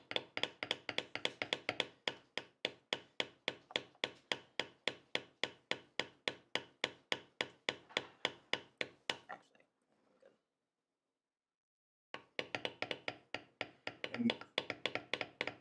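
A mallet taps a steel beveling tool along tooled leather lines, a quick, steady run of close, sharp wooden knocks that stops for about two seconds and then resumes at the same pace.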